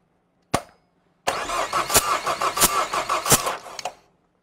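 A car starter motor cranks the engine in a steady rhythmic churn for a few seconds after a brief click, then stops; loud and close.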